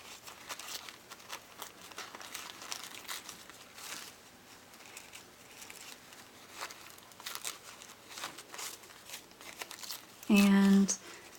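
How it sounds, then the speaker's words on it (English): Paper is torn by hand close around a printed image for a Christmas gift bag, a run of soft crinkling rips and rustles up close, ending with a brief louder burst. "just tearing as closely as I can to the image"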